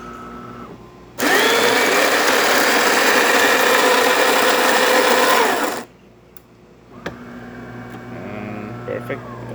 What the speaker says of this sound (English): So starting with one shot of espresso, we're gonna test this machine out.